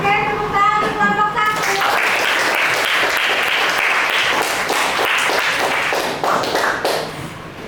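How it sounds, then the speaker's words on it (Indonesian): Applause for a student group at the end of a class presentation, steady clapping filling the room for several seconds after brief speech at the start, then tapering off near the end. "Oke, tepuk tangan untuk kelompok"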